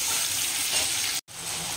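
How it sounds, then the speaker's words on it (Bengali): Mixed vegetables fry in a pan with nigella seeds, salt and turmeric, giving a loud, steady sizzle that breaks off briefly once before carrying on. "সবজিগুলো কালো জিরে ফোড়ন দিয়ে প্রথমে সবজি দিয়ে দিয়েছি, লবণ হলুদ দিয়ে এই যে ভাজছি"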